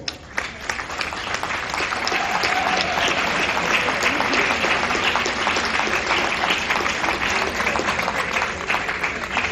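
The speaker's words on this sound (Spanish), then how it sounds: "Les pido que recibamos con un fuerte aplauso al señor Marcelo Marcó." An audience gives loud, sustained applause welcoming Marcelo Marcó at a stage presentation, a dense, even roar of many hands clapping that continues for the whole stretch.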